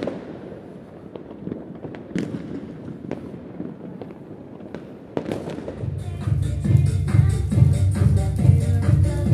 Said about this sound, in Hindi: दूसरा लोग बहुत हैप्पी न्यू ईयर का मजा मना रहे, पटाखा फुटा रहे